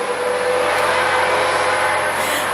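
A truck drives past, a steady loud broadband rumble and whoosh that fills the whole clip with no speech over it.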